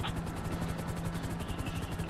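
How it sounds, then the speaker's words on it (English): A helicopter hovering in GTA 5 gives off a rapid, steady rotor chop over a low engine hum, continuous and fairly close, with faint game noise in the background. "Just hold the chopper here."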